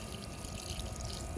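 Faint, steady rush of water running from an outdoor tap in front of a house, a soft continuous flow with no voices.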